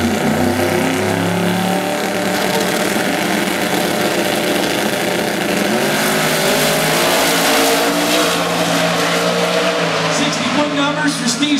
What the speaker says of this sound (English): You're going to hit the RPM climb up on that Camaro.